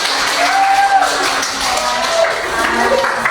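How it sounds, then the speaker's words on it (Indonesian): Students in a history class clap for their classmates, a broad, fairly loud wash of many hands with voices talking through it. "tepuk tangan dulu untuk teman-teman"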